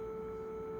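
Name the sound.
440 Hz sine wave through low-gain distortion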